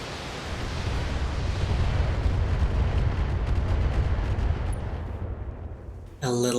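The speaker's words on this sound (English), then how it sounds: "That's a lot of missiles" Missile barrage explosions in the video game BattleTech form a dense, continuous roar of overlapping blasts, loud and rumbling for several seconds before easing slightly, then cut by a sharp closing burst.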